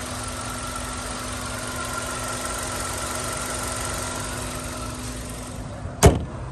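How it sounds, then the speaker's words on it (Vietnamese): A 2012 Hyundai Avante with automatic transmission idles smoothly with a steady, even hum, close by, and a single sharp knock or clunk near the end; no one speaks. "máy còn rất là êm này"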